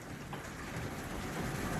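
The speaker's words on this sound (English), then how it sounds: "So it can hail like this, but it can't snow." Hail pelts down steadily during a storm outside a house, a dense continuous patter with a low rumble underneath that builds slightly louder over the short stretch, no voices present.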